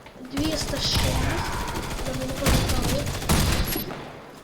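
A shotgun fires in a video game as loud, dense bursts of gunfire crowd together in quick succession, with a voice talking faintly underneath.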